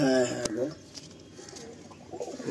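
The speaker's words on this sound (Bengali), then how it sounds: "এটা অনেক ওল্ড লাইন পায়রা, এই যে পায়রাটা" An old-line Giribaj pigeon coos in short throaty bursts close by, with someone talking over and around the calls.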